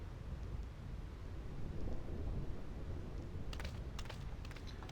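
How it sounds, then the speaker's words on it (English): A steady roar of storm, wind and rain in Final Fantasy X's Thunder Plains goes on the whole time, low and rumbling, with a few sharper crackles near the end and no voices. "This storm never stops."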